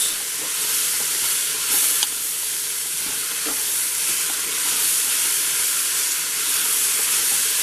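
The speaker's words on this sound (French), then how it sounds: "Et je vais faire cuire, toujours en position dorée. Faire dorer un petit peu." Vegetables browning in a pan give off a dense, steady sizzle and hiss, close and fairly loud, with a couple of faint utensil taps and no talking.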